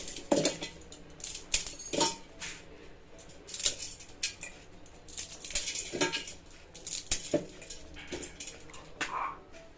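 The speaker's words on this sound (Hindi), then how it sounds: "तो इस मैगी को मैं तोड़ के मिक्सी जार में डालूंगी" Crisp crackling and snapping as dry instant noodles are broken into a mixer jar, with scattered sharp clinks against the hard container, irregular bursts close by.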